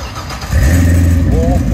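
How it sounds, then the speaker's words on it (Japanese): A Chevrolet Corvette's engine and exhaust start up after a brief quiet moment and settle into a loud, deep, rumbling roar close by, with a small rising rev near the end. "コルベットのアメリカサウンドはいかがでしょうか？"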